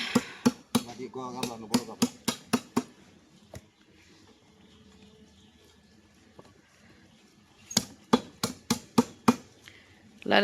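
Fish chopped with a heavy blade at a fish market: two bursts of sharp, loud, evenly spaced thwacks, with a pause of murmuring voices and market bustle in between.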